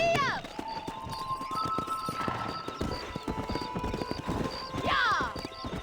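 A horse gallops and neighs in Red Dead Redemption, with fast rhythmic hoofbeats throughout, a loud whinny at the start and another near the end, and game voices speaking over the ride.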